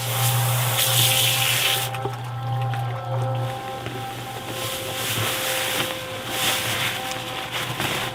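Water pouring steadily into a mixer for grout, a continuous splashing rush over a low motor hum, loud and close, with no talking.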